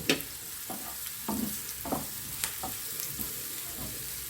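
Chopped onions sizzle in hot oil with cumin and mustard seeds for a banana flower curry, a steady soft frying hiss broken by sharp clicks and scrapes of a spoon stirring the pan every half second or so.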